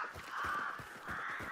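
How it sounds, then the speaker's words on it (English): Crows caw in a video game set at a crematorium, a steady overlapping chorus of harsh calls that runs throughout, quiet and distant-sounding, with no talk over it. "there's so many fucking crows"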